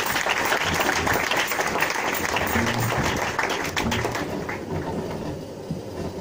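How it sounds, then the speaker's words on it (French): A church congregation claps and cheers loudly and steadily, a dense wash of applause that eases slightly toward the end, with voices mixed in. "Acclamons très fort."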